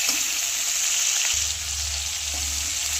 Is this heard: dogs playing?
no